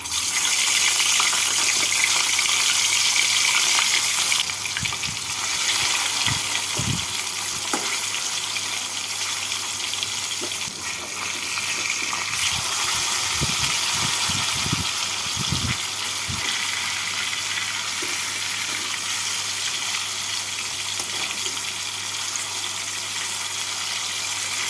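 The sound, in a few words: rui fish frying in mustard oil in a kadai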